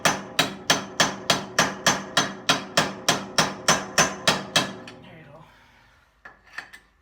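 A hammer strikes a chisel about fifteen times in a fast, even rhythm, prying a spacer out of a 2.5-ton Rockwell axle wheel hub. The blows are loud, sharp and metallic, followed by a pause, then faint scraping and a light knock.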